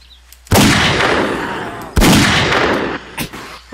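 Two loud, booming gunshots at a fat zombie in the video game 7 Days to Die, about one and a half seconds apart, each with a long decaying tail, followed by a few quieter thuds.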